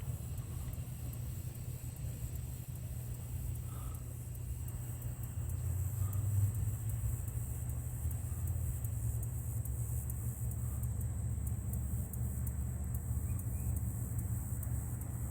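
A highrail fire truck carrying 200 gallons of water rolls slowly along a rail track, heard as a steady low engine rumble that swells slightly midway, from a moderate distance with constant background noise.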